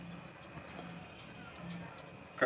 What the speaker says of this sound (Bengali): এইখানে দেখতে পাচ্ছেন এক জোড়া টপ কোয়ালিটির হাই ফ্লেয়ার গিরিবাজ কবুতর